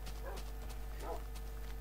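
A tamed dog barks twice in a Minecraft-style video game, two short mid-pitched yaps about a second apart over a steady low background hum.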